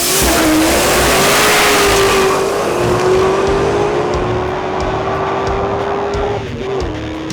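A 733-horsepower supercharged Cobra Mustang charges down a drag strip, its engine roaring loud and close with a steady rising pitch for several seconds before a brief shift-like dip near the end.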